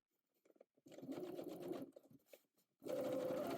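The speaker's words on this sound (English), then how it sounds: "press the seam towards the yoke back, and again, we're going to edge stitch and top stitch." A domestic sewing machine runs in short bursts while edge stitching and top stitching a yoke seam, close and fairly quiet, with a brief stitch, a longer run, a pause, then another steady run.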